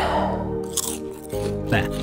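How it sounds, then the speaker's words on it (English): A character in the farming game Moon Farming eats: two crisp, close crunching bites separated by a short pause, set against a continuous low game-ambience hum. "And I might eat."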